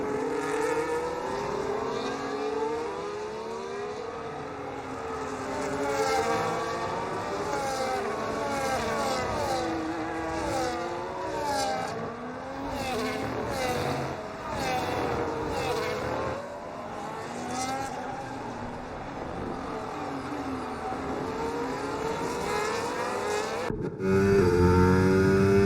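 Formula 1 cars, a Mercedes and a Ferrari battling wheel to wheel, scream past with high, rising and falling engine notes that overlap as they jostle, loud and sustained, with a commentator talking throughout.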